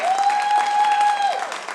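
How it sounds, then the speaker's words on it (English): Brief applause from a conference audience at a Medicare for All event, a steady wash of clapping with a sustained tone running through it, ending within two seconds. "Can we give a big round of applause for Isa?"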